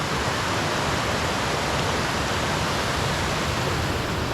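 An Australian waterfall cascade produces a dense, unbroken roar of rushing water, loud and steady throughout with no voices.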